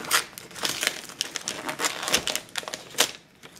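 Wrapping paper on a Christmas gift crinkles and tears in quick, uneven bursts, close and loud, as the present is hurriedly unwrapped, with no talking.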